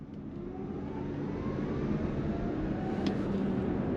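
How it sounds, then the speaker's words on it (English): A Nissan Leaf electric car in sport mode accelerating from a stop, a steady rising road and motor hum with a faint whine building over four seconds, heard from inside the cabin with no talking. "We're gonna go into sport, and then we're gonna go on throttle here."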